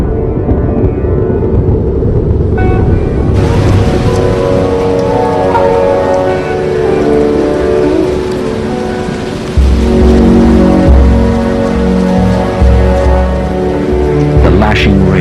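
Heavy monsoon rain sweeping over Cambodian forest, a loud dense downpour hissing steadily throughout, with a sudden surge in intensity partway through and a low rumble underneath.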